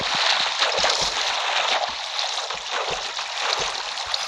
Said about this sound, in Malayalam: അവിടെ വാട്ടർ ഉണ്ട്. അയ്യോ വാട്ടർ പോന്ന